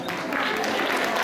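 Concert audience in Kutaisi applauding to welcome a vocal trio, a steady wash of clapping from a crowd with a voice faintly mixed in.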